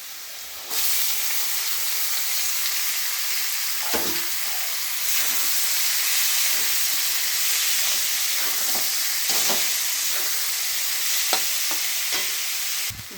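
Chana dal tipped into a hot pan and frying for a Bengali dal, a continuous loud hiss and sizzle with occasional scraping stirs, close and steady, no voices.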